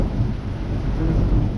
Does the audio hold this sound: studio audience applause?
no